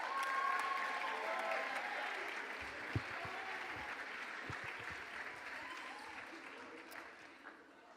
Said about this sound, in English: How about another round of applause for Jennifer Johns and Tim Blessed?